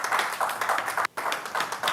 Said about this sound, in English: can we give a round of applause for Justice?